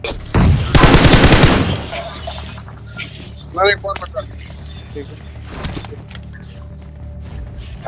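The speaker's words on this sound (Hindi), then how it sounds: "दो गोली मारा था ये एक और ये दो" Gunfire in the video game BGMI comes as one loud, dense burst near the start, followed by quieter mechanical clicks and faint game sounds, with a voice talking over it.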